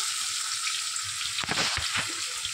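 Soya chaap fries in hot oil, a dense bright continuous sizzle close by, with a few bubbling spatters and light knocks midway; no one speaks.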